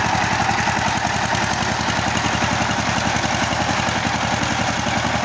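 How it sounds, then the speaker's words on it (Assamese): A small farm tractor engine idles close by with a steady, rapid, even chugging throb that stays loud and unchanged throughout. "সৰু ট্ৰেক্টৰ।"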